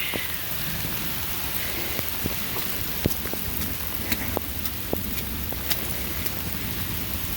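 Steady rain patters down outdoors, a dense hiss with scattered sharper drops striking nearby surfaces throughout.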